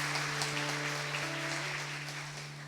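A church congregation claps after a Catholic homily, a soft, fairly distant patter of hands with a steady low electrical hum running underneath.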